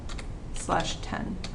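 Rapid keyboard typing during a spreadsheet data-entry task, soft quick clicks running under a person speaking briefly.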